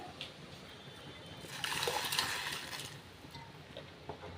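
Soaked rice poured into a pot of boiling water in a home kitchen: a brief, soft splash and slosh in the middle, set against faint bubbling, quiet throughout.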